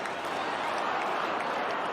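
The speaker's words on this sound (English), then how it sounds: "And they're starting to clap and chant now." A big football crowd at a Melbourne versus Fremantle match in 2009 makes a steady, broad wash of clapping and crowd noise, heard from a distance as an even roar.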